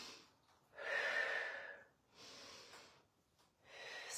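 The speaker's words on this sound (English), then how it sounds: "Breathe in." Sharp, airy breaths taken during a squat workout, heard as three swelling inhale-and-exhale sounds spaced about a second apart. They are close and fairly soft, with no talking over them.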